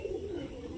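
Domestic desi pigeons cooing nearby, a soft low burbling call rising briefly then holding as a faint murmur over background hiss.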